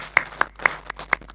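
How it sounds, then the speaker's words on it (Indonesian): A few people clap sparsely at a regency interfaith dialogue gathering, about five separate claps in a slow, uneven rhythm, close and fairly crisp with no talk over them. "Tepuk tangan dulu untuk Pak Sekjen."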